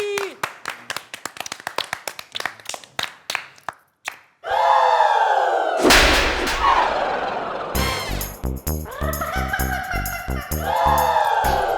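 A group claps for a dance teacher, first with sharp, spaced-out claps, then a sudden swell of loud, continuous cheering and whooping that fills the rest.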